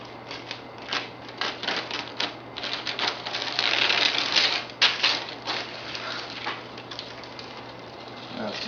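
Cauls being lifted off a vacuum-pressed, veneered curved table apron, giving a run of light tapping, rustling and clattering handling noises close by, busiest in the middle, under a steady low hum.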